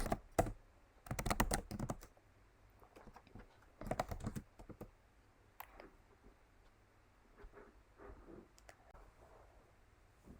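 Quick bursts of typing on a computer keyboard while C code is entered, clustered keystroke clicks with short pauses between runs, close and crisp in a quiet room.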